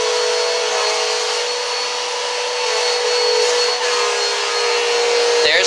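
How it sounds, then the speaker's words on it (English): A household vacuum cleaner runs continuously on carpet nearby, a loud steady motor whine with slight swells as it is pushed back and forth, with a brief bump near the end and no talking. "She's taking over the vacuum."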